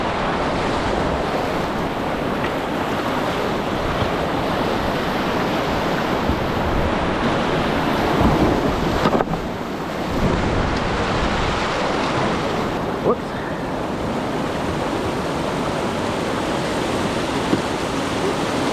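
River rapids at Little Falls at high water, a steady broadband roar of rushing water surging over a bouncy drop, loud and continuous throughout.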